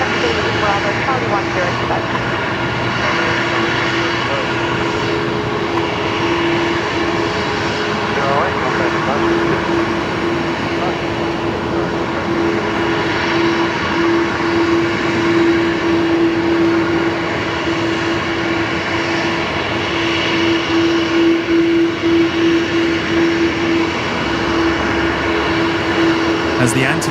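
An Oneworld Airbus A330 jet taxis along a taxiway at Brisbane Airport, its steady engine whine and broad roar continuous and moderately distant for the whole stretch, with occasional voices over it.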